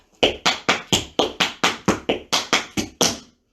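Tap shoes strike a wooden floor in an even run of about thirteen crisp, close taps, spaced roughly evenly in paradiddle patterns and closed with a final step, with no voices.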